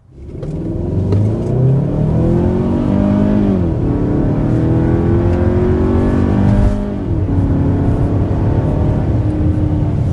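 A 2027 Kia Telluride accelerates on the road with a loud, close engine note that climbs through the gears, with audible shifts and a rising whir heard from inside, and no talking.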